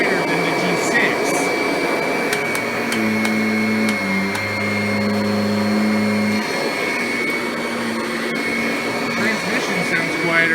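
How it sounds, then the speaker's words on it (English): A Kirby Ultimate G Diamond Edition vacuum cleaner runs with a loud, steady motor roar and a high whine, its pitch shifting briefly midway, heard up close for the whole stretch. "the Diamond Edition sounds a little bit more quieter than the G6."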